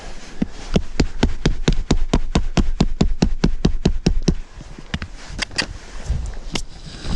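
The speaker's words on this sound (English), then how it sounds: "I think I got this super cheap hammer." A cheap hammer drives tent stakes into the ground at a campsite in freezing weather, sounding as a fast, even run of about twenty sharp close strikes, followed by a few scattered, irregular blows.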